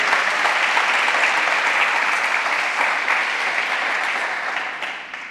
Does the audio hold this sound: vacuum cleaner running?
no